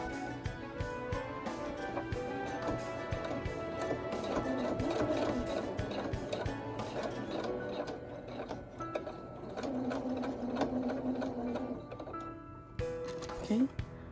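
A sewing machine runs a straight stitch along a fabric face mask, giving a steady, busy mechanical whir that keeps going for most of the stretch and stops briefly near the end. A voice talks over it.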